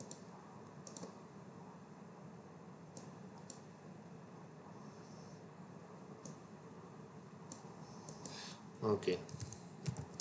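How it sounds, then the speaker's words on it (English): Quiet computer keyboard typing of a password goes on in soft, scattered keystrokes over low background hiss, with a brief spoken word near the end. "Let me type the password first."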